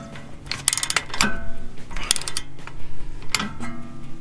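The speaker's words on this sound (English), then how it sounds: "And you just keep tightening till it pulls it all the way up to the back." Metallic clicks and ratcheting from a torque wrench tightening a wheel stud on a Nissan, in short irregular bursts up close with scraping contact between them.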